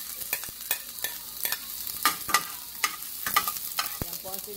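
Onions frying in olive oil in a pan for vegetable egg rolls, a steady broadband sizzle broken by repeated sharp scraping clicks of stirring, close and moderately loud, no talking.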